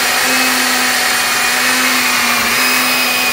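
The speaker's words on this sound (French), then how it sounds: "Quand on prend le mixeur," Kitchen blender puréeing a two-colour soup under a cloth cover, a loud steady motor whine with a constant hum running evenly and close for the whole stretch.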